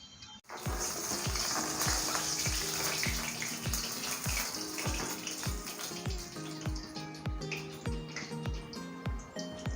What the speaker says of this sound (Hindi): माँ माछ फ्राए कर व्यस्त